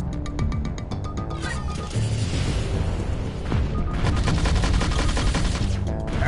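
Heavy gunfire and missile blasts in the End Space PSVR space-combat video game: rapid, repeated shots rattling in dense bursts alongside booming impacts, loud and continuous throughout.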